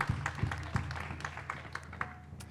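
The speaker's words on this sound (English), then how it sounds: "clap for that, please" An audience at a talk on food systems claps faintly and sparsely. Scattered individual claps ring out in an uneven rhythm against a quiet room, more a thin patter than full applause.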